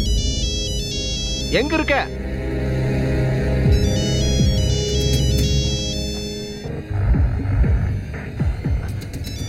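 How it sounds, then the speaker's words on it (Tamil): A mobile phone ringtone plays repeatedly, a bright melodic electronic tune looping over a low hum, with people talking over it in a domestic scene. "ஆயுஷி உன் போன் அடிக்குது பாரு"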